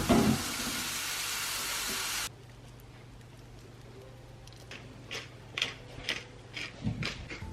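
Scrambled eggs sizzle loudly in a frying pan for about two seconds, then the hiss cuts to a faint simmer broken by light scrapes and taps.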